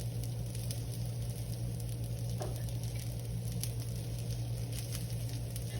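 Black bean burger patties fry in oil in a pan, a continuous soft sizzle and patter holding steady at moderate volume over a low hum, with no one speaking.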